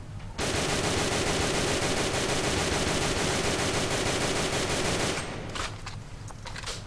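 A JK Happy Snow toy airsoft gun fires a loud, rapid string of closely spaced shots for about five seconds, then stops abruptly, leaving quieter room noise.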